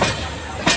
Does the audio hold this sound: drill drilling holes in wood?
no